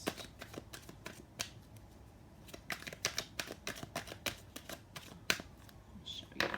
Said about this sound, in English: I'll shuffle again in a minute.